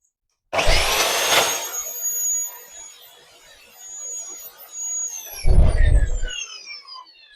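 A power saw with its motor on one side cuts pieces for a workshop angle grinder disc holder, giving two loud whining cuts that start abruptly, with the motor winding down in the pause between them.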